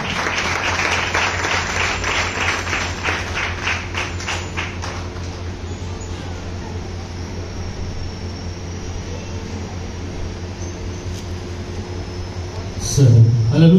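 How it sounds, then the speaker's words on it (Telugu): A church congregation at a Telugu worship service in Madhya Pradesh claps together in a dense burst that fades into a steady hum of the hall, with a voice cutting in at the very end. "ఒకసారి ఆయన కొరకే చప్పట్లు కొడదాము"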